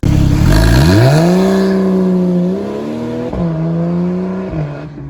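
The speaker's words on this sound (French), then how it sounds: "deux doubles sorties d'échappement avec PSE lui offrant une sonorité exceptionnelle" A Porsche 991 Carrera 4 GTS with PSE sport exhaust revs up hard from idle, the engine note climbing then holding a loud sustained drone, dipping briefly and rising again before easing off, very close and loud with no talk.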